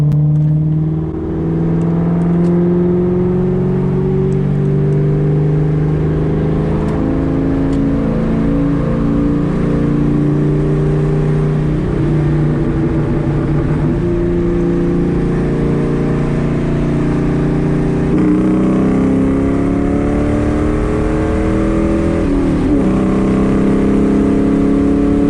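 A bolt-on Ford Mustang GT engine revs up steadily on a dyno, a loud continuous roar with rising harmonic pitch that climbs across the full pull and holds near the close, no voices over it.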